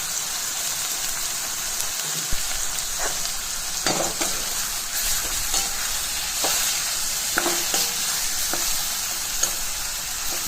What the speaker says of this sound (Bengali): একটু একটু করে কষাবো